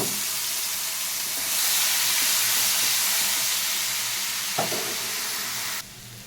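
Onion paste going into hot oil with nigella seeds, a loud, close sizzle that swells up and holds as a steady hiss, with a brief clink partway through before it cuts off.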